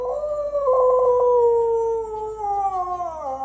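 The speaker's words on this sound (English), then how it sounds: "I think he's just an awesome dog." A dog howls in one long, loud, close wail that slides slowly downward and wavers near the end, with no other sounds.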